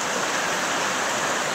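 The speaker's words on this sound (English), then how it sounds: "we're down to the creek now" Water in a creek in coal country rushes past in a steady, full hiss close by, unchanging and uninterrupted, with no talking.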